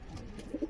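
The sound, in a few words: pigeons cooing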